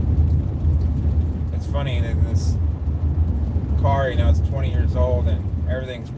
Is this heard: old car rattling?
yes